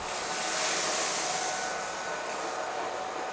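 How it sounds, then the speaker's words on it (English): A Whall cordless vacuum cleaner on medium power sucks up spilled birdseed, oats and cream of wheat, giving a steady, loud, close airy whine and hiss with no talking. "let's see how well the Whall cordless vacuum cleans this up"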